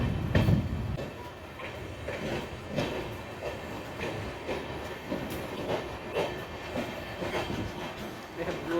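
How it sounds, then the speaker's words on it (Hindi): The Amrit Bharat Express pulls out of Kaptanganj railway station, its wheels clattering in a steady rhythm with hiss and rumble, while people talk faintly nearby. "अपनी अमृत भारत कप्तानगंज रेलवे स्टेशन से निकल चुकी है"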